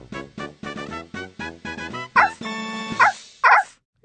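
Puppies bark in the Dora the Explorer video game: a quick run of about a dozen bright, evenly spaced yips and barks, close and loud, followed by a few higher squeals near the end.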